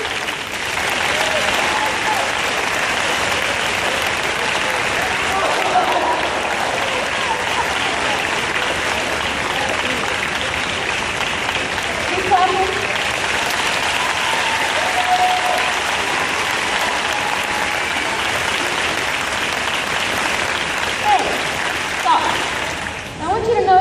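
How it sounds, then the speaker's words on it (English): Sustained concert crowd applause in Mesquite, Texas, a thick wash of clapping that carries on evenly for the whole stretch, with faint voices briefly surfacing. "Keep clapping, keep clapping."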